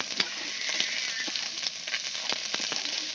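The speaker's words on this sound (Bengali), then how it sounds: "কাঁচা আদা তেলে দেওয়ার পরে হলুদ একটু দিয়ে দিবেন" Raw ginger, turmeric and cumin frying in hot oil, a close steady sizzle with scattered sharp pops and crackles.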